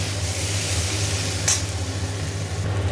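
Steady, loud sizzling of food frying in a pan before tomato paste is added, with a constant low hum beneath and a brief sharp scrape midway.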